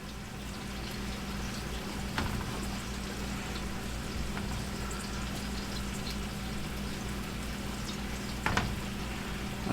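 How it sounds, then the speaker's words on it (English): Fork raking and shredding the hot flesh of a baked spaghetti squash, a steady close scraping texture with a couple of sharper scrapes, no talking. "just get a fork and you rake it"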